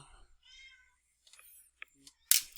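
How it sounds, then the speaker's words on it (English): A house cat meows behind someone at a desk during a physics lecture, with a few short, faint calls and a louder, sharper cry near the end, separated by quiet gaps. "I can't write 2 because my cat's behind me meowing"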